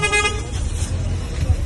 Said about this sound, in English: I don't think the honking is helpful